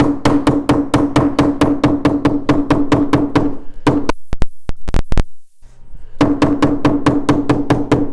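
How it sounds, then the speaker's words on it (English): Steady, evenly spaced taps from a soft-faced hammer setting glued leather for a dog collar, a long run of dull thuds, a brief break with a few sharp knocks, then the tapping resumes. "take a cheap soft-faced hammer here and just tap it down, get the glue set"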